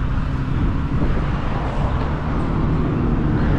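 Road traffic at a roundabout in New Zealand at school home time, a loud continuous low rumble of engines and tyres passing nearby, with no voices.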